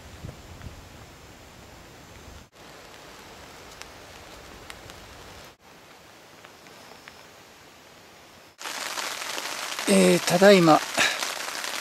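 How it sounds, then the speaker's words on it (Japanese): Heavy rain patters and hisses steadily on a solo campsite at Sugi no Furusato Park, Japan, in strong wind, growing louder toward the end, as a voice speaks briefly in Japanese over the downpour. "雨もかなり降ってきました"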